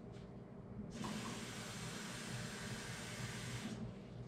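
Tap water runs steadily into a cup for cake batter, a close, even hissing splash that starts abruptly, holds for about three seconds, then cuts off, with no talking over it.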